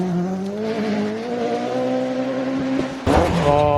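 A BMW rear-wheel-drive rally car climbs through a hairpin on a rally stage. The engine drones loudly and steadily in a held gear, then a sharp rise in revs near the end marks hard acceleration, heard close up with no talking.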